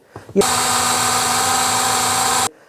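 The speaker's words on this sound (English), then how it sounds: "now I have a drill like this" A power drill whirs up sharply and runs at a steady high pitch for about two seconds before stopping abruptly, while restoring a sun-faded Ducati Diavel LCD display.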